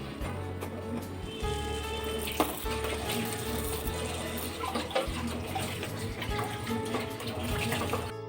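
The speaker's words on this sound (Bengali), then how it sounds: "আমি এখন সাবুগুলো ঢেলে দেব" Thick-grained sago pearls poured into a pot of boiling water for a sago sharbat, heard as a steady rushing, bubbling wash with a faint sizzle, close and continuous with no talk.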